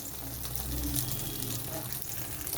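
Slices of bread dipped in egg fry in hot oil in a pan, giving a steady, close, even sizzle with a constant bubbling hiss and no talking.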